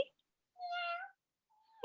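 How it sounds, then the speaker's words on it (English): A cat meows once in a short rising-falling cry, fairly close and clear in a quiet room, with a faint second call starting just before a voice cuts in at the end. "I thought I heard a kitty."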